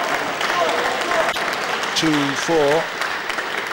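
A crowd applauds steadily at a men's table tennis quarter-final between Fang Bo and Skachkov at the 2012 World Open in Russia, a close, dense wash of clapping that runs throughout while a commentator talks over it.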